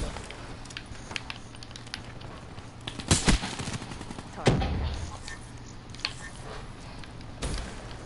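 Bursts of gunfire in GTA 5, a few sharp shots around the middle and a later single report, set against steady game background noise.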